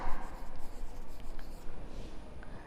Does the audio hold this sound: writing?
yes